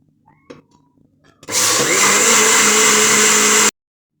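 A blender whirring through coconut for Jamaican sweet potato pudding, bursting on loud after a few soft clicks and running steady for about two seconds before cutting off abruptly.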